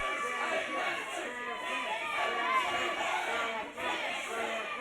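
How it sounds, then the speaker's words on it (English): A wrestling crowd at a championship wrestling match reacts to a showboating wrestler, a dense, continuous roar of many voices and chatter filling the arena without a break. "the crowd letting them know what they think of him"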